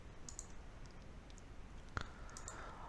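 A single sharp computer mouse click, faint and brief, over a low room hum with no talking.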